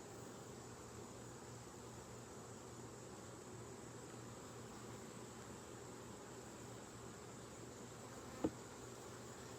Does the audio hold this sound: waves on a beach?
no